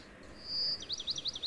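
House sparrows and common mynas chirp in trees beside a house: one long thin whistled note, then a quick series of short rising chirps, fairly close and clear, with no talking.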